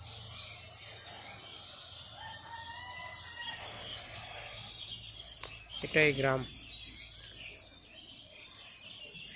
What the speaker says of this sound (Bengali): পাখির কলরব শব্দ